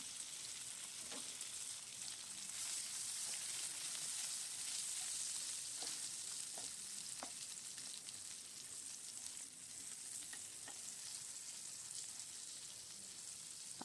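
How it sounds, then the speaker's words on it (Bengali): Eggplant fries in a pan with salt and turmeric, giving a soft, steady sizzling hiss dotted with occasional small pops and crackles, faint and uninterrupted throughout. "নুন হলুদ দিয়ে বেগুনটাকে ভালো করে একটু ভেজে নিতে হবে"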